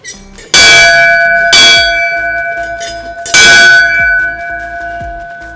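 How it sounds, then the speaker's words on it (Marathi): A metal temple bell at a Chinese temple in Mumbai is struck three times, each loud clang ringing out and slowly fading before the next. "तुम्हाला तीन वेळा ही घंटा वाजवायची आहे"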